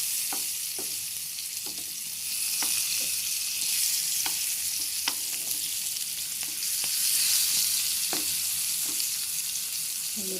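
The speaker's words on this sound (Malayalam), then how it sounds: "അപ്പോൾ നമ്മളെ ചെമ്മീനൊന്ന് മറച്ചിട്ട് കൊടുക്കുന്നത്. അപ്പോൾ എനിക്കൊരു വെളുത്തുള്ളി ചതച്ചെടുത്തിട്ടുണ്ട്." Prawns marinated in chilli, turmeric and salt fry with crushed garlic, making a continuous close sizzle scattered with sharp crackling pops, with no voices.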